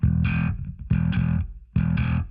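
A heavily distorted bass guitar through a Mesa 8x10 speaker cabinet plays three thick, gritty notes in a repeating pattern, loud and close with a buzzy upper edge.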